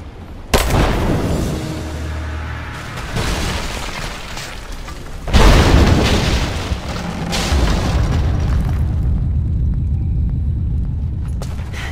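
Greek fire detonations in the Rise of the Tomb Raider video game: two heavy, close booms, one near the start and a louder one midway, each followed by a long rumbling, crackling tail of debris and fire with no talking.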